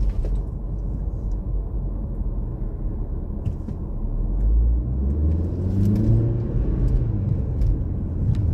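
A vehicle engine rumbles steadily while the car creeps along at about 8 miles an hour, a continuous low drone that grows a little louder and rises in pitch in its second half.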